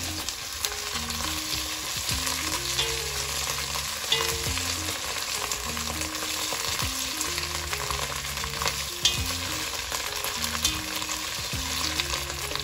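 Tomato puree frying in a pot for jollof rice while being stirred, a continuous loud sizzle with scraping spoon strokes and a steady low hum beneath, no talking.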